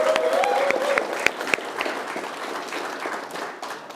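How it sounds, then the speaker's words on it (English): Wedding guests at Boclair House Hotel in Scotland applaud the bridesmaids, a warm wash of crowd clapping with a few whoops and cheers that gradually fades over several seconds. "Can we have a wee round of applause?"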